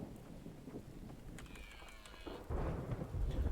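Thunderstorm in the survival video game The Infected: a low rumbling roll of thunder over steady rain and wind, swelling louder near the end.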